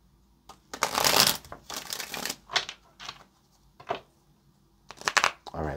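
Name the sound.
shuffling cards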